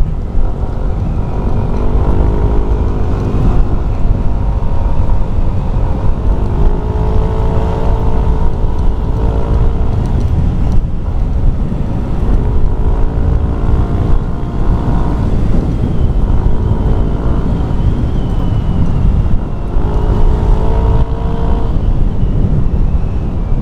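An NMAX motor scooter with a 60 bore-up and a Rob One aftermarket exhaust drones steadily and loudly at close range, its engine note rising and falling slightly with no one talking.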